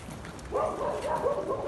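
A dog barks several times in quick succession at moderate distance, over a noisy outdoor background where people are gathered around a fish.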